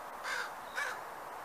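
A blackbird calls out at a hawk perched nearby, two harsh, cawing bursts a short moment apart, moderately near against a faint outdoor background with no talking.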